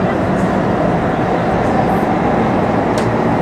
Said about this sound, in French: Le métro de Taïwan, il est bien.